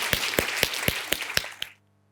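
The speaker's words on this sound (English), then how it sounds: "So another round of applause for Julia Darvill" Conference audience applauding the final speaker comes through as a run of about seven sharp, evenly spaced claps, close and moderately loud, stopping abruptly into near silence.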